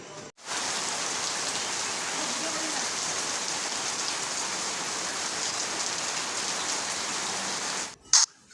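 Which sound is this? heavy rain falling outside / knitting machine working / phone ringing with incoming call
heavy rain falling outside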